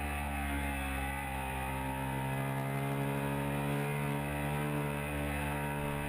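A 2013 Ducati 1199 Panigale R engine drones steadily in second gear around 6,000 RPM, pulling out of a slow corner on a track, with a loud, even, buzzy exhaust note throughout.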